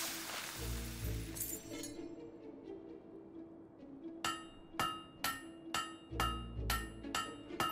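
Ringing metal-on-metal strikes from a blacksmith hammering a blade in the video game Fable 3: about eight evenly paced clangs, each with a bright sustained ring, over a steady low background drone.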